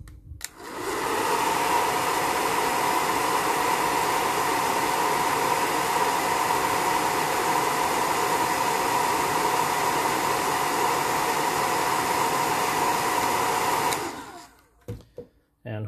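A heat gun blows hot air to soften material for a ball-socket neck joint, a loud steady whooshing roar that runs unbroken for about thirteen seconds before cutting off, with no talking over it.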